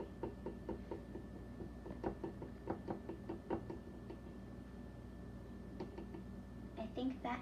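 Gentle taps on a freshly dipped, thinly coated gluten-free chocolate cake pop come as a series of light, close knocks in a loose rhythm. A short pause falls midway and a quicker cluster comes near the end.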